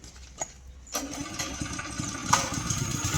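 A go-kart engine cranks and catches near the one-second mark, then settles into a rough, buzzing idle with sharp revving bursts, close and fairly loud, no voices over it.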